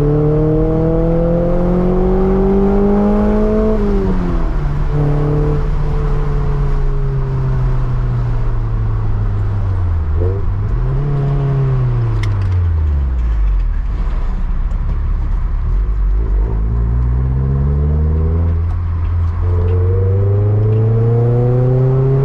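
A 1993 Toyota MR2 engine revs up and down repeatedly, close and loud, its pitch climbing and falling in several long sweeps with no talking.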